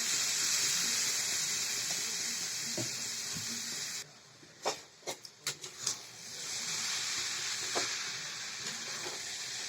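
Soaked flattened rice (chira) tipped into a hot frying pan for chira polao: a steady sizzle cuts out briefly, then a few soft thuds and scrapes of the rice landing before the frying hiss returns.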